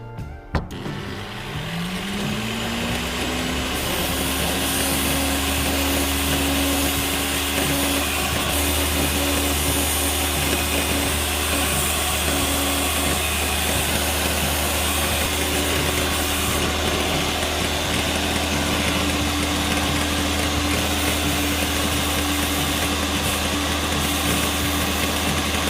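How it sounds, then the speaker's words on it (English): A grinder sharpens one end of a core with a steady, loud motor whine and gritty grinding noise. It runs without a break the whole time and is close to the listener, with no talking. "Next, I'll sharpen one end of the core with a grinder."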